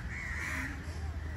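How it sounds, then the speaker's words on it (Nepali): Crows caw briefly and faintly in the distance in a short outdoor moment near a pond in Bhaktapur, with no one talking. "कस्तो विधि कागहरू कराइरहँदो रहेछ है"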